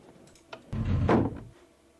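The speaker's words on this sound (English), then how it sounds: "I mean, I can close the door on him." In a FNAF-themed Minecraft game, a door swings shut with a soft click followed by a muffled, hollow thud, alone and fairly close.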